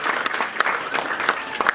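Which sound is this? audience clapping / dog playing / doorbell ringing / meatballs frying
audience clapping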